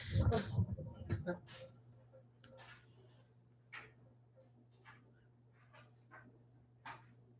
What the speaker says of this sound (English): I'm gonna let this dog out.